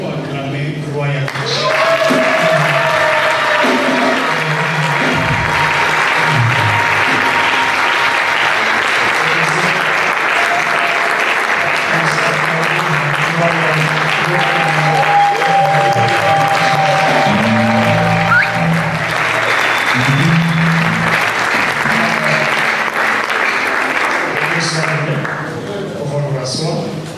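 Large audience applauding and cheering for Royal, a parliamentary candidate, at an official launch event, steady loud clapping that fills the whole stretch, with voices and shouts mixed through the crowd noise.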